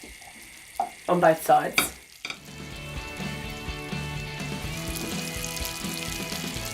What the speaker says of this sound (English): Try and make sure there's an even layer so every piece of chorizo is touching the pan